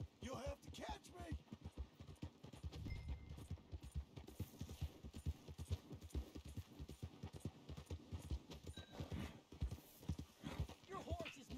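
Horse galloping in the open-world game Red Dead Redemption 2, a rapid, continuous hoofbeat clatter with an occasional whinny, close and steady throughout while people talk over it.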